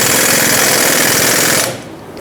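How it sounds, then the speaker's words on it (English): An impact gun spinning an 18mm socket to take a sway bar link mounting nut off a 1999-2007 Ford F-350 with the 7.3L Powerstroke, a loud close continuous rattling hammer that winds down and stops near the end. "Now use an 18mm socket to remove the mounting nut off the bottom."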